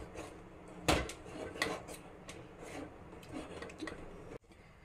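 Steamed rice flour dough (ukad) is mixed in a pot just after the gas is turned off, giving soft close scraping and rubbing of a utensil against metal with one sharper clank.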